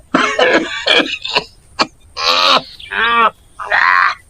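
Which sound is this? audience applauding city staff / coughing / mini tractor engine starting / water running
coughing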